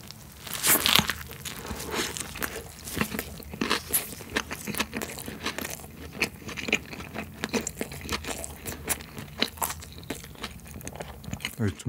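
Burger King Stacker 4 double white garlic Whopper being eaten close up, with repeated crunchy bites, wet chewing and wrapper rustling in an irregular rhythm across the whole stretch.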